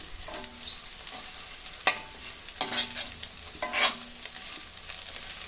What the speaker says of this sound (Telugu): ఐరన్ బాండీలు అవుతే బాగా ఫ్రై అవుతాయి.